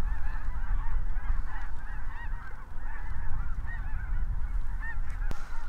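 A large flock of snow geese honks continuously in flight, a dense overlapping chorus of calls carrying from a distance over a low rumble of wind.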